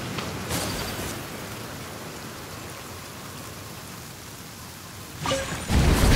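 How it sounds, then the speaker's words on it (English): Steady rain in the video game Genshin Impact hisses evenly throughout, with a few brief louder bursts near the start and a heavier surge toward the end. "Let us find shelter from the rain."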